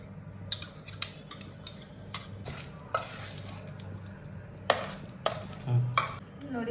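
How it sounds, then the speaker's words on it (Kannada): Boiled potatoes are mashed in a pot, with scattered soft squelches and sharp scraping clacks of a utensil against the vessel, irregular and fairly close, with no speech. "ಆಲೂಗಡ್ಡೆ ಎಲ್ಲ ಸ್ಮ್ಯಾಶ್ ಮಾಡಿ."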